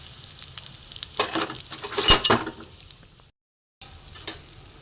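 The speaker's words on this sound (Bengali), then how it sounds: "এখানে রয়েছে তেজপাতা, গোটা গরম মশলা, আমি ফোড়নে দিয়ে দেবো।" Bay leaves and whole garam masala sizzle in hot oil in a wok-style pan, a crackling fry that swells into a louder burst of spitting and stirring, briefly cuts out, then resumes more quietly.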